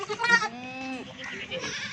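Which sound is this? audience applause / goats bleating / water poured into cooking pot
goats bleating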